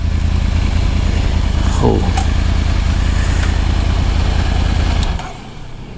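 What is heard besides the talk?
motorbike engine running nearby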